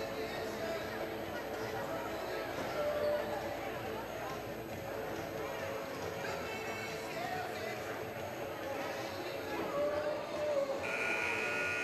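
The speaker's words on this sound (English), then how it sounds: "And there's the buzzer." A buzzer at a school sports game gives a steady electronic tone near the end, heard over constant crowd chatter and a commentator's talk in a busy gym.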